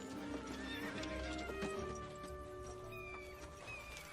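Horses whinny and neigh over the clatter of hooves, with a busy, lively feel and faint voices mixed in.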